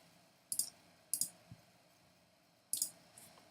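Keys on a computer keyboard tapped while entering a welcome message in a Manychat messenger setup: three or four crisp, close clicks with irregular gaps, heard alone over a faint room hum with no talking.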